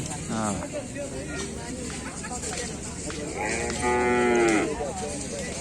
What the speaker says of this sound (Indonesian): ini ada sapi lagi.